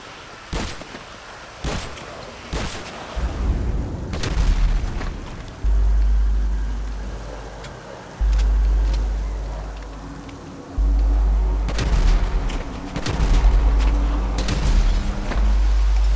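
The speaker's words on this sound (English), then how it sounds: "Heavy shotgun." Heavy shotgun blasts in GTA 5 gameplay: several loud, booming shots at irregular intervals, each with a low rumbling tail, over steady game background noise.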